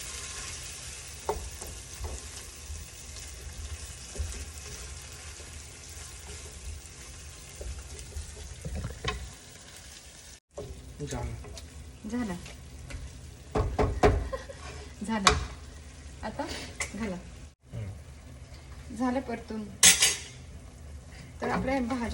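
Pav bhaji vegetables fry in a pan, stirred with a utensil that clinks and scrapes against the metal over a continuous sizzle, with a person talking at times.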